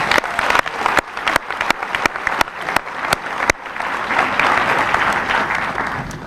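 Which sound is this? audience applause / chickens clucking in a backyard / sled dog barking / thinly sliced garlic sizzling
audience applause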